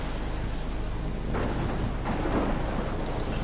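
Steady downpour in Life is Strange, a night thunderstorm in the woods, with continuous hissing rain and two low rolling thunder rumbles in the middle, no talking.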